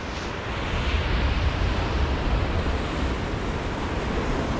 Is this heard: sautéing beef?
no